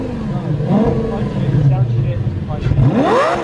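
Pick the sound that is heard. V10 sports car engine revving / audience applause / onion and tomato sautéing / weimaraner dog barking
V10 sports car engine revving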